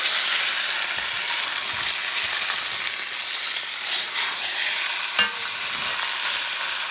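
Beef pot roast searing in a hot pan makes a steady, close sizzle throughout, with a few soft clanks and scrapes as the meat is turned over.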